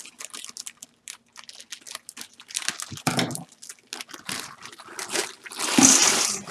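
A 3-pound bag of frozen baby lima beans being opened, with loud plastic crinkling and rustling in bursts, ending in a harsh, close tearing crunch.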